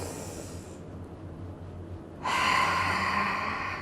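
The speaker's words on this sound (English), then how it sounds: "you take a big inhale and big exhale" Deep, airy breathing during an intermediate at-home Pilates workout: a long breath that shifts sharply into a stronger, rushing exhale, close and fairly loud with no speech.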